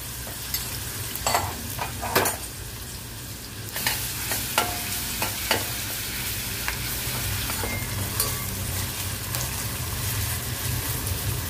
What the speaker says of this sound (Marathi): आपल्या खरबीच्या ह्याच्यामध्ये मी हे वाटण टाकते, मिरची, आलं, कोथिंबीर, लसूण